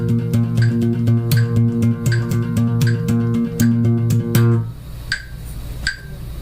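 An electric bass plays a fast, even run of sixteenth-note triplets over crisp click-like beats; the bass stops near the end while the clicks keep ticking alone.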